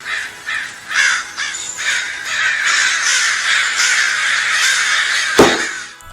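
A crow caws loudly and close up, a rapid run of harsh repeated calls used as a sound effect on a radio prank-call show, ending in a sharp knock.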